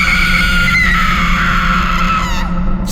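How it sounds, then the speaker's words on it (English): A woman screams in terror as a horror story sound effect, one long, loud, piercing shriek held for about three seconds over a low rumbling background. "Chloe screamed and dropped her phone in sheer terror"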